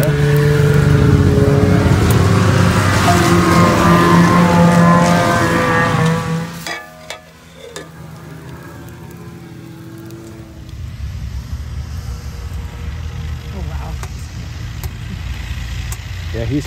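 An engine revs hard at full throttle beside a snowy Iditarod trail, roaring loudly for several seconds before dropping away, then a lower engine drone continues with voices talking over it.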